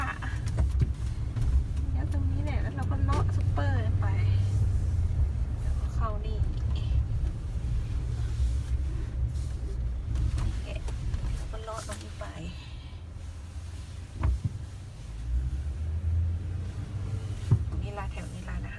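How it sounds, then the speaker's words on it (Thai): Busy road traffic in America, with cars passing continuously and a steady low rumble of engines and tyres, while people talk over it. "รถเยอะมาก"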